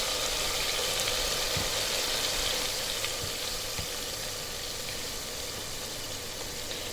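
Masala fries in a pan with a steady, dense hiss of sizzling oil, close and even, with only a few faint stirring knocks.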